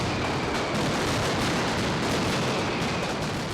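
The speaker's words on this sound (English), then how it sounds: "Hundreds of pounds of maroons are set off within a few minutes." Maroon fireworks at the Feast of St. Joseph festival in Valencia go off as a dense, continuous roar of rapid loud explosions, with no gaps.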